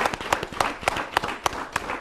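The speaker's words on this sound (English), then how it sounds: "A round of applause for yourselves." Audience at a Nigerian Independence Day town hall broadcast giving a round of applause, sharp distinct claps in a loose, fairly regular rhythm, close and moderately loud, no talk over them.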